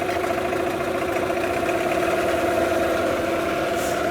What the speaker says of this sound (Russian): Отлично работает, как новый мотор